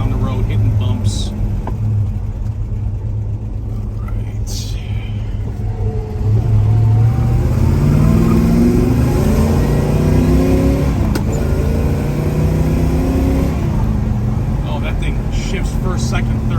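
Engine of a 1969 Chevrolet Chevelle 396 rumbling on the road, its low tone dropping and climbing again as it shifts up through the gears, loud and close inside the car.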